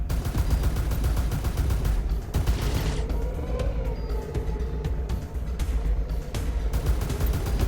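Heavy repeater weapons firing in the Space Reign space combat video game, a dense, continuous stream of loud rapid shots and booming impacts with a brief pause around the middle.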